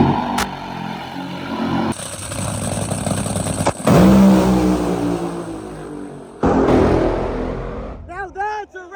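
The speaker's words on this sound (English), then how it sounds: "Now that's a race car. That is a race car." A nitro funny car engine at a drag race roars loud and close, its revs rising and dropping in surging bursts with brief cutoffs, then falls away as voices rise at the end.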